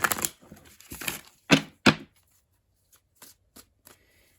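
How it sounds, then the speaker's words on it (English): Tarot cards being shuffled by hand, a few riffling bursts and taps, then quieter scattered card sounds, close up. "I'm going to give them one more good shuffle here"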